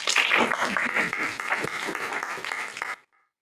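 A conference audience claps together as a show of agreement, a full burst of applause with some louder individual claps that stops abruptly, leaving near silence.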